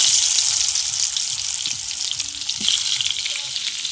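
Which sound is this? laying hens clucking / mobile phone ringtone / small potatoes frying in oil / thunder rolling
small potatoes frying in oil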